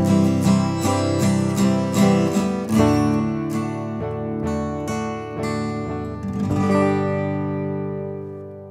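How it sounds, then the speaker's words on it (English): Layered acoustic guitar parts, doubled strummed chords ringing together in a multitrack music arrangement, playing clearly and steadily for the whole stretch with no voices. "So then I went ahead and grabbed my acoustic guitar and added some double parts that way"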